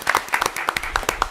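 Applause for honored nurses at a school district board meeting, with a scattered burst of hand claps from a modest crowd. It runs briefly and fairly close, with a few faint voices mixed in.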